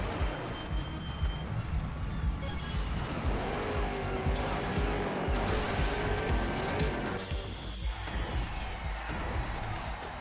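Race cars in the TrackMania Turbo video game on PS5 give off a continuous loud engine roar with rising and falling revs and tire squeals, steady throughout.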